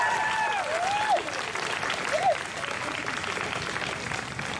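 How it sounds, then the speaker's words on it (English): Crowd at a trans pride march in Melbourne breaking into steady applause, a dense wash of clapping with a couple of whoops rising above it, fairly distant and even throughout. "Give a big round of applause."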